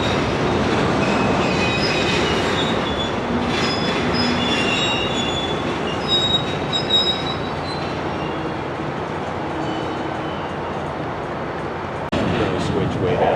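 A Union Pacific freight train rolls past at a rail yard with loud, sustained metallic wheel squeal over a constant rumble of cars, continuing almost without a break.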